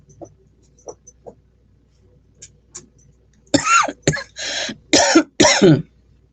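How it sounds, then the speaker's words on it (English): One person coughs hard five times in a quick burst, loud and close, after some quiet small clicks and rustles. "Excuse me, coughing."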